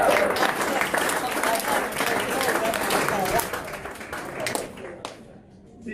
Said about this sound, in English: I think we should all give him a clap.